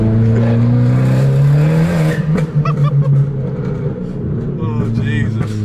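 A tuned Abarth 595 with a TD04 turbo accelerates hard, its engine note climbing loudly and close before easing off, with a rising whir and a second surge near the end; someone talks over it partway through.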